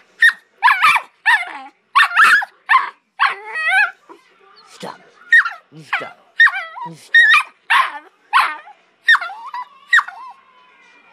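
A puppy barks and yips in quick sharp bursts with squeaky, whimpering notes, close and loud, while a person's voice breaks in briefly.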